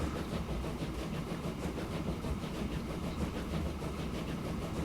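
Simulated trains run in the video game Transport Fever, a steady rolling rumble with a faint rhythmic clatter of wheels on track, continuous and even, with no voices.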